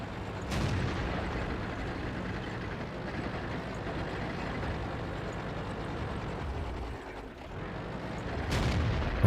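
Artillery fire in the tank battle game World of Tanks: a heavy, continuous low rumble with two sharp booming blasts, one near the start and one near the end.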